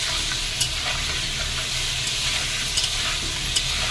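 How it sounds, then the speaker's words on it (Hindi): Potatoes stir-frying on a high flame for a Bengali mutton curry, a dense, steady sizzle with occasional soft scrapes of stirring, close and continuous. "तो इसको बढ़िया से मिक्स करते हुए गोल्डन ब्राउन होने तक फ्राई करेंगे।"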